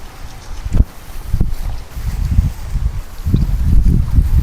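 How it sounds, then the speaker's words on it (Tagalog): Strong gusts buffet the microphone at an outdoor campsite on a tree farm in Cavite, coming in heavy, low rumbling bursts that rise and fall with short lulls between them. "Medyo matindi yung hangin dito."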